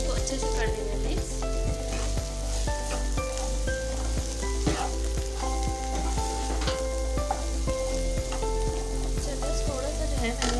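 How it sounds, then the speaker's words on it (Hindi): Bhindi (okra) with tomato being stirred in a frying pan, a loud steady sizzle with repeated scraping strokes of the spoon against the pan in a regular rhythm, close up and without talk. "जरा इसको अच्छे से कर देंगे मिक्स"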